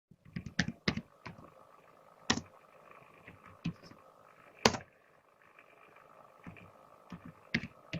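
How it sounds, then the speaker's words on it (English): Close computer keyboard typing while a website title is entered, irregular bursts of crisp key clicks with a few louder strikes and brief pauses between words, quiet background, no speech. "So here we will just type a site title."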